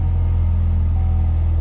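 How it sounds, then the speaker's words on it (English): A Pontiac Solstice engine runs steadily with a strong low rumble and a constant hum, most likely the idle together with the blower motor running, without a break and with no talking. "the car's running."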